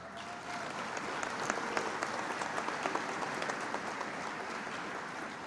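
Steady applause from a large audience at a medical school convocation and white coat ceremony, a continuous wash of clapping heard at a moderate distance.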